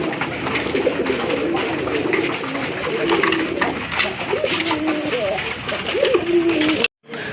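Maxi racer pigeons, a pair including a light-coloured, very large bird, coo steadily in a dense, close chorus of soft throaty calls, with someone talking over them throughout before a sudden brief cut near the end.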